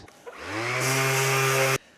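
A power sander with 60-grit paper spins up and runs loud and close on wood, cutting through sanding sealer on a guitar body, with a steady motor hum and gritty abrasion, then cuts off abruptly.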